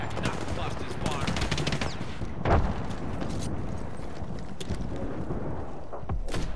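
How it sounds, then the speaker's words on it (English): Dense, rapid gunfire from the knuckle busters weapon in a video game, with overlapping bursts of shots that continue loudly throughout and one heavier blast near the middle. "Stand back, knuckle busters firing."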